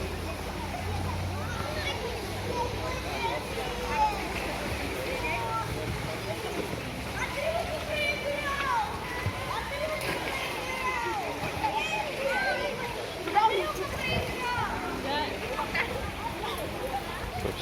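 Beach crowd at a sea resort, with splashes and water sounds from people jumping in, mixed with a steady murmur of voices and children's chatter throughout, one louder splash near the end.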